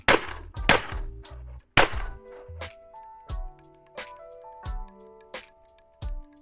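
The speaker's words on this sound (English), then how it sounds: "If your ammo is too small and you actually aim downwards and fire, you will get a jam." A Huben GK1 gel blaster loaded with undersized ammo fires a handful of sharp snapping shots, loud at first and then lighter, each trailed by short metallic ringing, with no voices.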